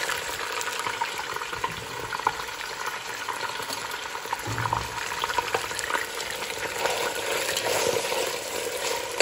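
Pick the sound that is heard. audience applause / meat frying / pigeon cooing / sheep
meat frying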